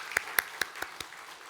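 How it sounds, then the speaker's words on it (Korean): A few scattered hand claps from a church congregation during an evening worship service, five sharp claps in an uneven rhythm, fading over about a second and a half. "하나님께 다시 한번 영광의 박수를 드리겠습니다."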